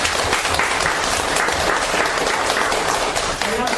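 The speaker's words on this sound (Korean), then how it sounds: "고문자 다시 한번 큰 박수." A lecture audience at a finance class gives a big round of clapping, loud and continuous with a dense even texture from start to end.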